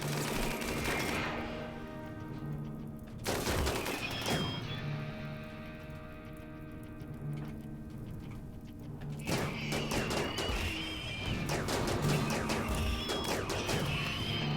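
Auto mortar firing high explosive shells in RimWorld: repeated loud blasts and crashing explosions in clustered bursts, separated by a quieter stretch with a steady low hum underneath.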